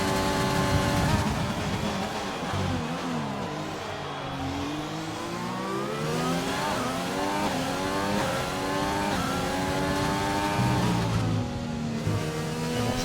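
McLaren Formula 1 car in an F1 video game race at the China circuit, engine howling at high revs down a straight with rising pitch sweeps through gear changes, loud and continuous, with faint commentary beneath.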